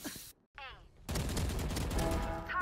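Pistol fire in the tactical shooter Valorant, a dense burst of loud, sharp shots that keeps going for over a second after a short quiet gap and a brief voice.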